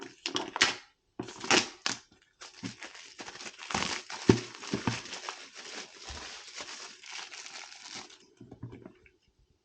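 A blade slices and tears through the cardboard and tape of a gimbal box, giving irregular close scratching and ripping strokes with short pauses between them.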